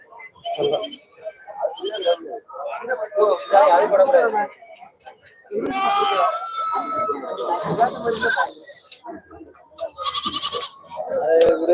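Sheep lambs and ewes bleating at a livestock market in Tamil Nadu; repeated loud, close bleats come in bursts with short pauses, mixed with other animal calls and nearby voices.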